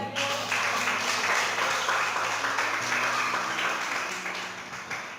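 Church congregation clapping in praise, a full, continuous burst of many hands that holds steady, then slowly eases off, with a faint sustained musical tone underneath.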